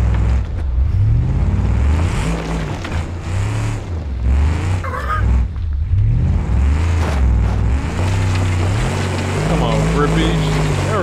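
An old tow truck engine in BeamNG.drive drones and revs on an offroad trail, its low rumble rising and falling repeatedly, with someone talking over it throughout.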